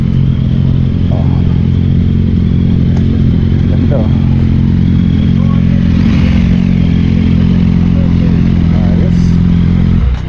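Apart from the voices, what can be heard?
group of motorcycles at a meetup, engines revving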